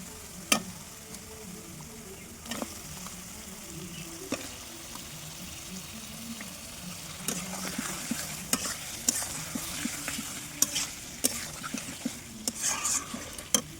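Meat and turmeric-spiced masala paste sizzle in a pan while a spoon scrapes and stirs, with clinks against the metal growing busier toward the end; close, fairly quiet, no talking.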